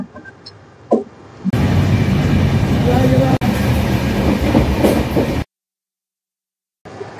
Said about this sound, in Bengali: হাওড়া নিউ দিল্লি পূর্বা এক্সপ্রেস কিন্তু রওনা দিয়ে দিল।